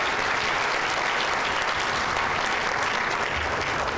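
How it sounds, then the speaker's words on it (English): A large audience applauds the mayor at the 31st Annual City of Tampa Black History Celebration, a dense, steady roar of clapping that fills the whole stretch at full strength without letup. "So can we give our mayor just another round of applause"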